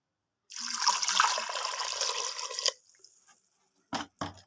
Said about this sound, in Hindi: अब मैं पानी डालूंगी